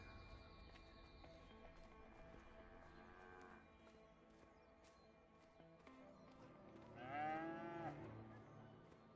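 A cow moos on a farm in the game A Way Out, a long low call rising near the end over faint ambient background, with a few soft clip-clop-like knocks scattered throughout.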